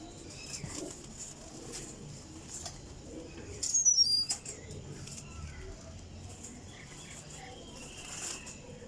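Golden Teddy flying pigeons cooing softly in a loft, with a brief close flurry of wingbeats midway and faint chirps scattered over a quiet background.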